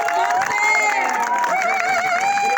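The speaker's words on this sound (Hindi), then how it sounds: "तो तालियों के साथ हमारे क्षेत्र के जो पादरी है उनको हम बुलाएंगे, तो तालियों के साथ स्वागत कीजिए।" Church gathering audience at a construction site area near Aizawl, cheering, whooping and clapping together to welcome a pastor, a lively, close crowd sound with high shouts over the din.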